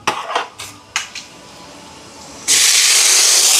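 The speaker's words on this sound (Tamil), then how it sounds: "இதில் தக்காளி பழம் சேர்ப்பேன்" Several clanks of a utensil against a pot lead into a sudden loud, sustained hiss as tomatoes are added to sautéing onions and okra, the steamy sizzle filling the rest of the moment.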